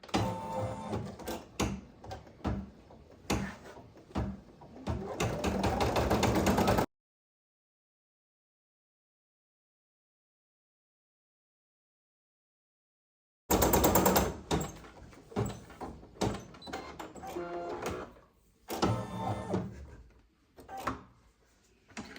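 Automatic embroidery machine stitching fabric for a necessaire, a rapid, loud mechanical chatter of needle strokes that runs in bursts, stops completely for several seconds, then resumes.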